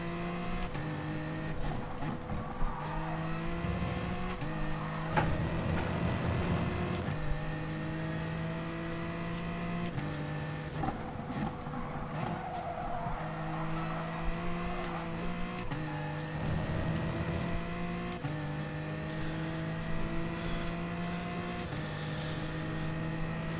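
Race car engine in the video game Gran Turismo Sport, revving and accelerating through repeated gear changes with rising and falling whine, steady and prominent throughout, with no talking.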